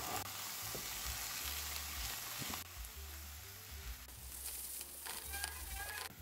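About 500 grams of ground beef frying with onion and garlic in a pan: a loud, dense, crackling sizzle, close up. It swells and shifts as the meat goes in and is stirred, and faint voices sit far underneath.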